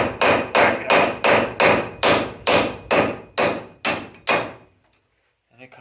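Ten sharp, evenly spaced hammer blows ring out close and loud as a wheel stud is driven out of an Exotruck hub, each strike decaying quickly before the next, then a brief pause and a faint clatter.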